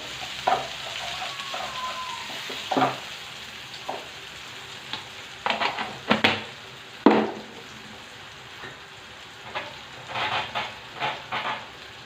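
Pepper paste sauce frying in a pan, a soft low sizzle broken by scattered scrapes and sharp pops in irregular bursts, fairly quiet and close, with no voices.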